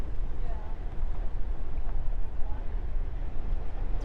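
Steady wind rumbles and buffets a microphone at a panoramic outdoor viewpoint in Maine, a dense low roar with no clear pauses.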